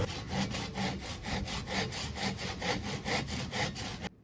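Handsaw cutting off protruding excess from a wooden batten, a steady back-and-forth rasp of about a dozen even strokes, close and alone, stopping abruptly at the end.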